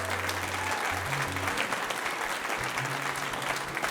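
Audience applause for radio performers, a continuous, fairly dense patter of many hands clapping at an even level throughout, with no break.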